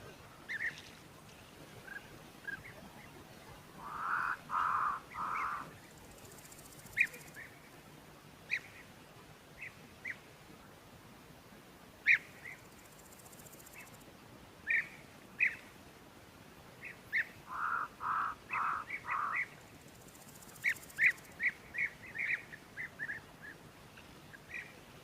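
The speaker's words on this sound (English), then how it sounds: "You can hear the European bee eaters calling. An almost little whistle." European bee-eaters call at a waterhole with soft, trilling little whistles in scattered short bursts and brief clusters, moderately distant over quiet outdoor background.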